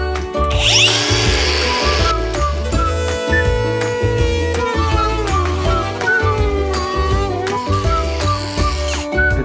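A power tool cuts through a metal sandwich panel with a loud, continuous whining grind and a pulsing low drone that holds steady, close up, with no speech.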